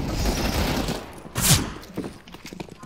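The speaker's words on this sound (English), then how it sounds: "Oh my, flashbang." A flashbang grenade goes off in Counter-Strike: CS:GO as a single sharp bang midway, preceded and followed by quieter in-game noise and movement.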